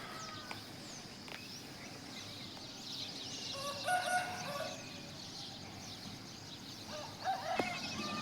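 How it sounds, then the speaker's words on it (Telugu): A rooster crowing at dawn in a village among hills, several distant calls with clucks and birdsong over a quiet, faint rural background. "ఉదయం వేళ పక్షుల కిలకిల రాగాలతో కోడి కూతలతో ఎంత అద్భుతంగా ఉందంటే అంత అద్భుతంగా ఉంది"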